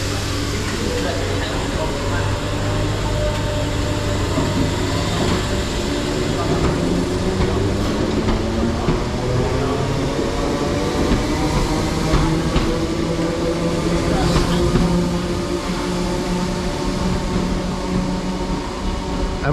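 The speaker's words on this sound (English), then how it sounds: "Off goes the 507 heading over to Ellesmere Port" A Merseyrail class 507 electric train departs an underground station toward Ellesmere Port, a steady rumbling roar with rising and falling motor tones that fills the enclosed platform, with a voice speaking over it.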